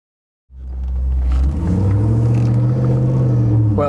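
A 600 hp V8 Wildcat Defender 110 with live axles starts off under light throttle, its deep engine rumble rising steadily and loud inside the cabin, with a faint voice near the end.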